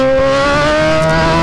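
A Kawasaki Z1000 motorcycle with its mirror removed accelerates hard, a loud, close engine whine climbing steadily in pitch without a break, with no talk over it.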